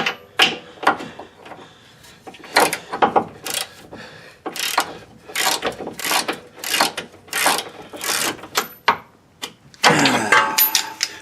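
Hand tools work a tight, rusty bolt on a 2011 Ford Edge toe link: close ratchet clicking and metallic grinding in uneven bursts, with clanks and scrapes between strokes, getting louder and busier toward the end.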